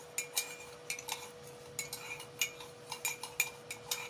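A spoon whisks instant coffee, sugar and a little water in a cup, giving a run of quick, light metallic clinks and taps at an uneven rhythm, close up and fairly quiet, with no talk.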